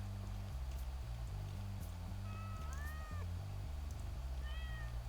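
Cat meowing in the video game Goat Simulator, a few short rising-and-falling meows over a repetitive low stepped game music loop.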